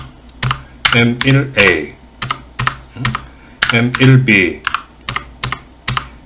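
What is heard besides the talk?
typing on a computer keyboard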